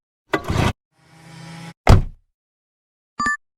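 A car door shuts with a short, solid thud, followed by a softer rustling stretch, a second sharp slam, and a brief bright chime at the end.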